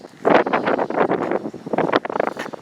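Wind gusts buffet a microphone beside a grave in a Cottondale, Texas cemetery, roaring in loud, uneven bursts for a couple of seconds with only short lulls between them.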